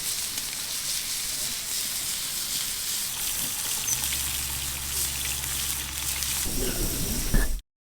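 Broadband crackling sizzle of chicken searing over flames on a grill, steady throughout with a low hum entering partway through.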